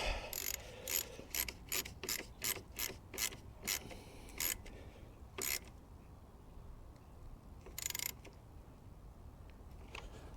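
A ratchet strap is cranked tight to hold down a new car battery in a Honda Jazz, giving quick bursts of crisp mechanical clicks at a close, quiet level, then a pause and a few final clicks.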